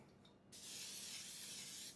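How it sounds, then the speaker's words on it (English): Cooking spray hisses steadily onto a baking dish for about a second and a half after a brief quiet start, then cuts off. "I'm just going to lightly spray"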